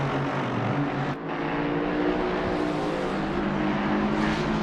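Lexus and Ferrari race cars battling on track at Imola, a loud, continuous engine roar with shifting pitch as the cars push hard, close and dense throughout with a brief dip mid-way.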